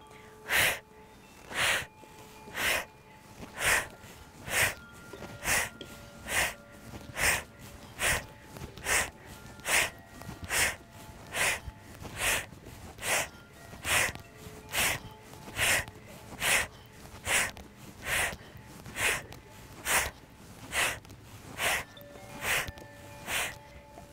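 Sharp rhythmic breaths during a moving seated yoga twist outdoors, about thirty forceful puffs at a steady pace, each exhale landing as the body turns from side to side, close and clear.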